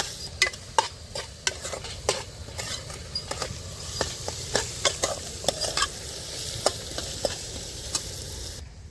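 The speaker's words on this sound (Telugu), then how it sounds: "ఉల్లిపాయ కొంచెం బ్రౌనిష్ కలర్ రాగానే అల్లం వెల్లుల్లి పేస్ట్ వేసుకొని వెల్లుల్లి పేస్ట్ పచ్చివాసన పోయేంత వరకు వేగించుకోవాలి" Ginger-garlic paste frying with browned onions in a pan for Andhra chicken fry: a steady low sizzle punctuated by frequent sharp clicks and scrapes of a spoon against the pan, close and without talk.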